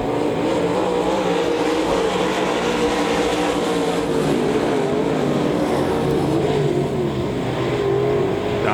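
USRA Modified race cars roar through a heat race at Devil's Bowl Speedway, a loud, dense, unbroken wall of engine noise with slight swells as the pack passes.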